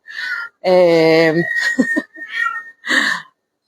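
A cat meowing at a farm cat sanctuary, several close, loud calls in a row, one long drawn-out wail among shorter meows.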